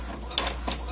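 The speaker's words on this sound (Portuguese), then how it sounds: "Vou ali filmar agora o documento saindo ali na minha impressora" A home printer feeding out a document, a short mechanical whirring with a couple of soft clicks, close and fairly quiet.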